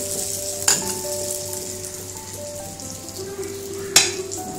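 Burelu, sweet filled dumplings, fry in hot oil with a steady soft sizzle and crackle, and two sharp louder spits stand out above the bubbling.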